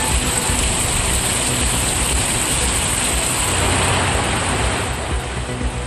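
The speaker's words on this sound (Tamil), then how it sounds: "அரியலூர் மாவட்டத்தில் வெளுத்து வாங்கிய மழை." Heavy rain pouring down in Ariyalur district, Tamil Nadu, a loud, constant dense hiss that stays unbroken throughout with no voices.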